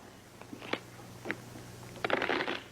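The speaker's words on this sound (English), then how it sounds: "Shuffle the cards." Playing cards are handled and shuffled at a table: a few soft, scattered taps and flicks, then a short riffle burst near the end, all quiet and close with no talking.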